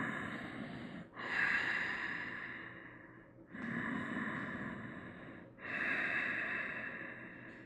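A person holding a yoga pose breathes slowly and audibly, three long airy breaths close to the microphone, each a steady rush with brief pauses between.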